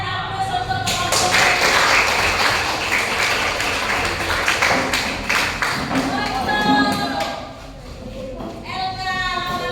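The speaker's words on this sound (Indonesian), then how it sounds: "berikan aplaus untuk kelompok" Students in a classroom give a student group a round of applause. The clapping is dense and steady for several seconds, then fades, and voices talk near the end.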